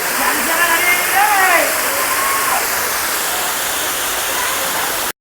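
Rushing water from the Ranajilleda waterfall roars as a steady broadband wash, close and loud, while people's voices are heard over it early on before the water continues alone.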